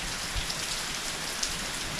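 Steady rain falls during a passing thunderstorm around a home, a dense even hiss of drops on surfaces with a few sharper nearby drips, no voices.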